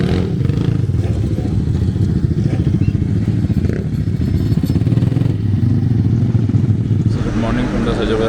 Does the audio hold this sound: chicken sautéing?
no